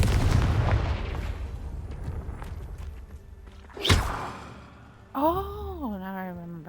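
A fiery Confringo spell blasts in the Hogwarts Legacy wizarding video game with a sharp, booming burst over low rumbling game ambience, followed by a short voiced exclamation.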